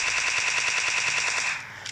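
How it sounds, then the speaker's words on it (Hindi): A Tommy gun fires a sustained rapid burst in PUBG Mobile Lite, with dense, evenly spaced shots rattling loudly for about a second and a half before the fire cuts off. "टॉमी गन से हेड पे गोलियां दी भाई"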